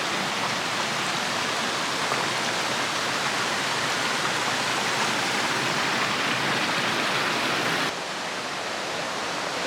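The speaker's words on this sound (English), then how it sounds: "Here's Miners Creek again." Miners Creek rushing along the Pacific Crest Trail, a broad, steady roar of flowing water heard close by, continuous and loud with no voices.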